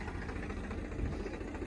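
A 380 tractor engine idles steadily, a continuous low rumble with a mild mechanical rattle, heard alone and at moderate level throughout.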